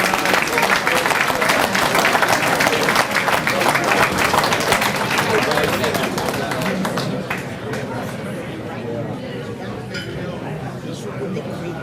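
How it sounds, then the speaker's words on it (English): A luncheon crowd at the Middletown Sports Hall of Fame applauds two teams with loud, sustained clapping that tapers off slightly toward the end, with some chatter and clinking mixed in. "Let's give both of those outstanding teams another well-rounded applause."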